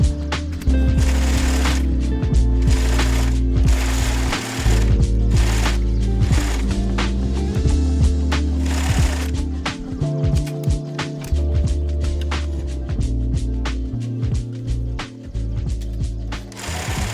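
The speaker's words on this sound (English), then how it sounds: "So I'll go ahead and stitch up this center seam of this waistband and then continue on." A sewing machine stitches the center seam of a boxer shorts waistband, running in a loud, steady mechanical whir with a rhythmic needle clatter and a few short pauses, close by and with no talking.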